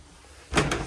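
A shower door in a 2002 Avondale Rialto 480/2 caravan swinging open or shut, a single short close thud with a light rattle after a quiet pause.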